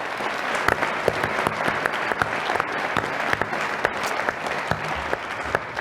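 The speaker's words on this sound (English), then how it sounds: "So just a huge round of applause." An audience at a business school award event breaks into sustained applause, a dense, steady clapping from a crowd that carries on without pause.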